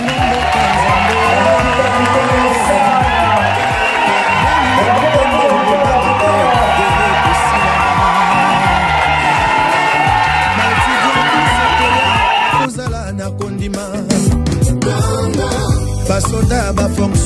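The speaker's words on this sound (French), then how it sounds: "Je vous invite donc à l'acclamer comme il se doit." A crowd cheering and acclaiming the president of the Republic at a tribute, a loud sustained roar of voices and applause that holds steady, then cuts sharply into more broken cheering near the end.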